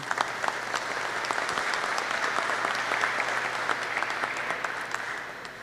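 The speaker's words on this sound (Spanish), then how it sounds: "Damos un fuerte aplauso." Audience applause at an additive manufacturing core lab inauguration during an international conference, a fairly quiet, even patter of many hands clapping that stays steady throughout.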